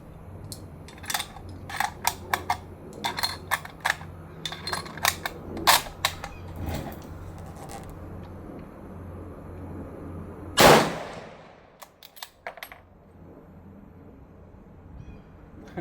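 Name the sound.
Navy Arms Quest Extreme Carbine rifle gunshots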